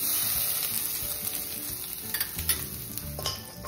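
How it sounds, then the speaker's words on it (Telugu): Mustard seeds, green chillies and coconut frying in oil with chana dal and cumin for a beetroot coconut curry: a steady close sizzle with stirring scrapes and a few sharp spoon-against-pan clinks toward the end, no talking. "కొద్దిగా వేయించుకుందాం. దీంట్లో ఆవాలు, పచ్చిమిరపకాయలు, కొబ్బరి."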